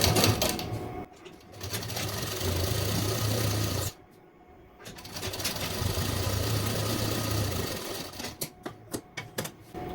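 An electric sewing machine stitches a seam on a simple suit, running close and loud in long bursts. It stops briefly midway, then ends in a few short, stuttering runs.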